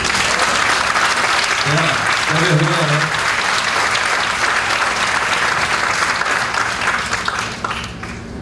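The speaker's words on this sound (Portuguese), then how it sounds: "Vai aplaudir o Senhor" A church congregation claps in sustained, dense applause that fills the whole stretch at steady loudness, easing slightly at the end, with a voice talking over it.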